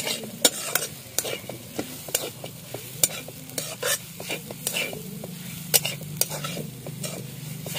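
Tender jackfruit cooked with dried fish, stir-fried in a pan in Malvani home style, with a continuous close sizzle and frequent sharp scrapes and clinks of a metal spoon against the pan, without any speech.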